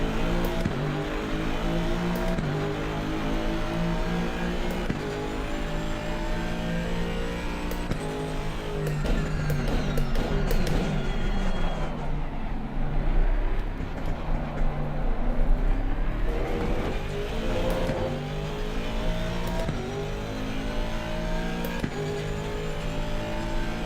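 A racing car engine in the game Assetto Corsa Competizione roars steadily throughout, its pitch climbing and dropping through gear changes, loud and close with no talking.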